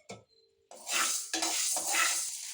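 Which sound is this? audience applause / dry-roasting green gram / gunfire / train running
dry-roasting green gram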